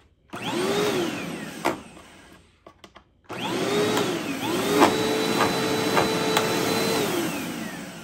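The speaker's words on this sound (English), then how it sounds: "if I turn the vacuum on, I'll easily be able to hold this brush roll, no problem" A Bissell upright vacuum with a loss-of-suction problem whirs loudly nearby with its brush roll spinning, its motor whine rising and falling, cutting out briefly with a few clicks before starting up again.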